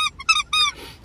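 A squeaky dog toy ball squeaks in three or four sharp, high-pitched bursts, loud and close, each squeeze brief, with a short breathy release at the end and no talk.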